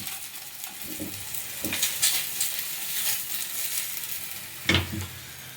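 Ghee sizzles steadily under a jaggery and peanut stuffed paratha frying in a pan, with a few soft scrapes and a sharper clatter near the end, and no voices.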